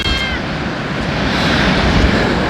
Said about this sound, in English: There's cats all over me now.